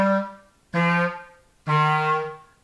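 Three sustained low clarinet notes are played one after another, each a separate breath with short gaps between, descending from middle C by covering tone holes and adding the pinky keys, solo and close.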